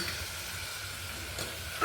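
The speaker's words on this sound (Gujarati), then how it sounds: "કોબી બટેકાનું શાક તેલમાં તળે છે" A steady, even hiss of cabbage and potatoes frying in hot oil, close by, ending with a brief louder stir.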